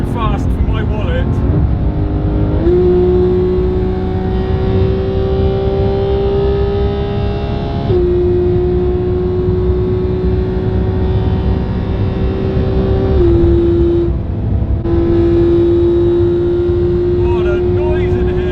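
A 2017 Porsche 991.2 GT3 engine drones loudly at full speed from inside the cabin, a steady high-pitched tone that shifts pitch slightly a few times, with a brief dip in level.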